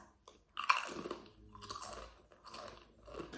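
Pringles chips crunched and chewed up close, with a sharp first bite followed by several rhythmic crunching bursts and softer chewing in between, with no talking.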